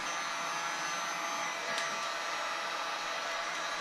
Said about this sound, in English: I'm using a heat gun, not a hair dryer.